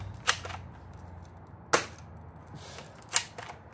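A JF 34s AK airsoft rifle fires three sharp, snappy shots spaced about a second and a half apart, each a crisp crack over a quiet background with faint room noise and no talking.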